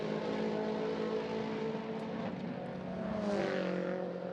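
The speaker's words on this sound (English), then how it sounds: "Next little wave of cars goes over the timing line there" Road-going race cars in 2023 Macau Grand Prix Roadsport Challenge qualifying pass the timing line, a faint, distant engine drone with one louder sweep as a car goes by near the end.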